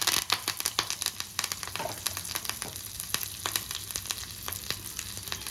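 Curry leaves hit hot tempering oil for a coriander pachadi, giving a close, crackling sizzle with sharp sputtering pops scattered over a steady frying hiss.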